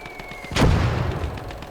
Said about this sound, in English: That's my own artillery.